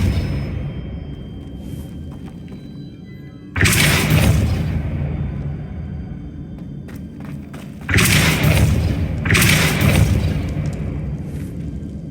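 Two heavy, booming thuds with whooshing rush, each swelling loudly then fading over a few seconds, from the Depulso spell effect in the video game Hogwarts Legacy, separated by quieter game ambience.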